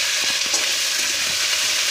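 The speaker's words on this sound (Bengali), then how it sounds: "তো আদা আর জিরেটা ভালোভাবে ভাজা হয়ে গেল" Ginger paste and cumin frying in oil in a village kitchen, a close, continuous sizzle with the soft scrape of stirring running through it, no voices over it.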